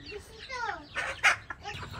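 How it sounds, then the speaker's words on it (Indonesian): A free-range village chicken clucks in short, close, rising-and-falling calls, with a sharper squawk near the middle, over a faint outdoor background. "Ini ayam kampung udah selesai makannya."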